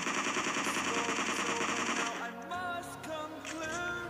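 Rifle fire in PUBG Mobile pours out as a rapid continuous automatic burst for about two seconds, then gives way to softer game sounds as the weapon runs empty and reloads.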